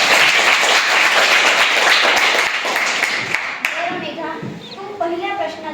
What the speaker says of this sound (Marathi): मेघासाठी सगळ्यांनी टाळ्या वाजवायच्या